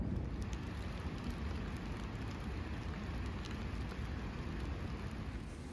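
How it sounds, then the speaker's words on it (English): Steady rain patters down outdoors, a dense continuous hiss with scattered drops, holding at an even, moderate level throughout. "So it just started to rain."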